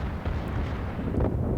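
Heavy naval guns boom in a World of Warships battle involving the cruiser Pensacola, a brief deep rumbling volley with overlapping blasts and no talk.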